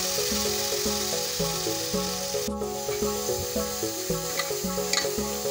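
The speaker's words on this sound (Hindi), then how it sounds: "अब इसे सॉटे करेंगे।" Spinach, ginger and green chilli with fenugreek sauté in a pan, giving a steady hiss and soft stirring scrapes under louder rhythmic background music.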